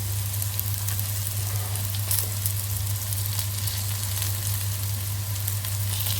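Onions with a spoonful of honey gently confiting in a pan for a pork confit, an even, continuous sizzle and crackle close by with a low steady hum underneath.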